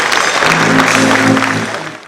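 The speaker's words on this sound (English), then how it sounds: "Big round of applause." Audience applause at a book event for Senator Ben Murray Bruce's The Common Sense Revolution, a loud, close, continuous wash of clapping from a crowd, with a faint tonal hum beneath it, tapering slightly at the end.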